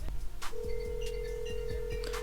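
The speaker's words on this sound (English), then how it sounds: "You can also hear that my phone is still calling." A steady electronic iPhone ringing tone on iOS 14 hums beneath a series of soft, regularly spaced clicks and taps, moderately loud and close.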